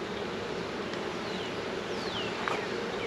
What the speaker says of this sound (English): there's so many bees in here